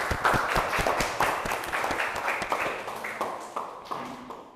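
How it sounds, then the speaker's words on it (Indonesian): A small class group claps for several seconds, quick irregular close hand claps that gradually thin and fade out. "beri tepuk tangan"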